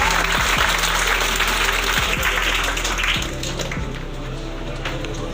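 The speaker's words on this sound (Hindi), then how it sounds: "तालियां बजा दो इस बच्चे के लिए।" A crowd claps steadily for several seconds, the applause loud at first and thinning slightly toward the end.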